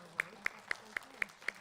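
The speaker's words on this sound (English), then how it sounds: "Let's give her a round of applause." Steady claps at a school district spelling bee, six sharp evenly spaced hand claps about a quarter second apart, fairly close and distinct, over a faint low murmur.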